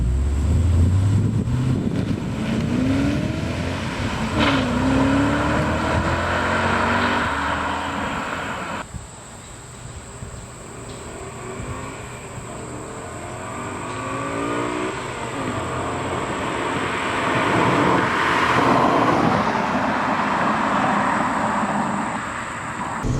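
A BMW E39 M5 is driven semi-aggressively. A loud engine note rises and falls through gears under steady road and wind noise, with a lull midway before it pulls hard again.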